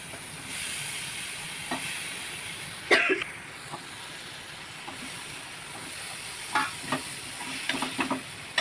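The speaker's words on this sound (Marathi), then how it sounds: "तेलामध्ये छानपैकी परतून घ्यायचं" Potato and brinjal sauté in hot oil with a little coriander, making a continuous close sizzle broken by scattered scraping and clinking stirring strokes.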